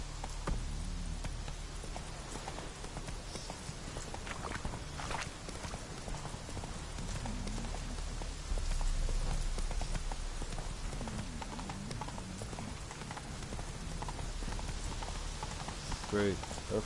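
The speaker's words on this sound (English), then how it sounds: "Of course it's raining." Steady rain patters across the whole stretch while a horse's hooves clip-clop at a trot in the Witcher 3 video game, with a brief louder gust midway and no talking.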